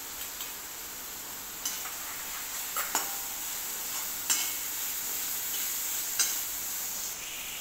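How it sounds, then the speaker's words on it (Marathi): Onion-garlic masala with biryani masala, red chutney and turmeric frying in oil for egg fry, a steady close sizzle punctuated by occasional sharp ticks of a spoon stirring against the pan. "मसाला छान असा तेल सुटेपर्यंत परतून घ्यायचं आहे आपल्याला."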